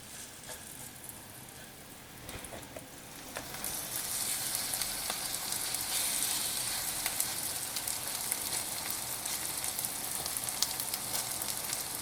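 Food frying in avocado oil over high heat, a steady bright sizzle that grows louder after a few seconds and then holds as a continuous hiss, with a few light clinks early on and no voices.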